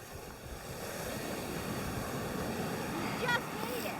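Ocean waves wash onto an icy winter shore in New England, a soft, continuous surf rumble mixed with wind buffeting the microphone. The sound is fairly distant and low in level throughout.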